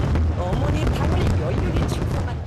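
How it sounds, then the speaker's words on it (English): A massive New Year fireworks display in North Korea, dense overlapping booms and crackling bursts rolling continuously, loud and echoing. "North Koreans ushered in 2023 by launching a massive show of pyrotechnics."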